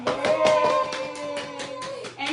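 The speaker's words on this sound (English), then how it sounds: "Can you please give her a round of applause" A small group claps in welcome for a guest on a podcast, a brief, close round of applause lasting a couple of seconds.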